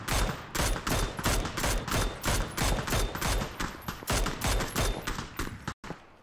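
Video game gunfire in an online shooter: rapid bursts of automatic shots crack in a dense, loud, evenly paced volley from nearby, with a brief pause near the end and no voices over it.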